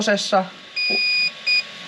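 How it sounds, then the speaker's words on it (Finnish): An electronic speed controller on an RC car, a Robitronic Razer brushless combo, beeps after its set button is pressed, giving a long tone and then a shorter one, close and clear, following a brief spoken word. "Painetaan kerran set-nappulaa, se piippaa pitkän kerran."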